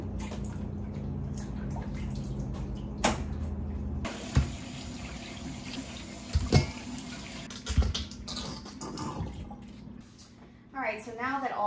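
Tap water running steadily while fresh corn cobs are rinsed at a sink, with a few louder splashes and knocks partway through; a voice talks over it at times.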